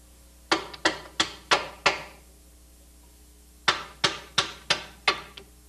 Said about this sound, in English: you're going to have to take a hammer or a bar and striking the end of the nut, push the stud in through the mount